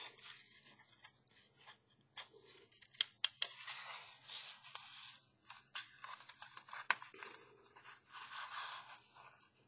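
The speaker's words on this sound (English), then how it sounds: "Now I'm going to switch to my smaller" Small fussy-cut scissors snip and rasp through paper in quick, close-up bursts, with soft rustling and scraping between the cuts.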